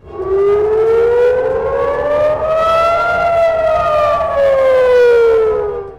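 Civil defense air raid siren wailing in Israel, a loud, close, continuous tone that slowly rises and falls in pitch, sounding alone without voices.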